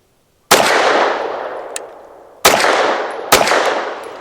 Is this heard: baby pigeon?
no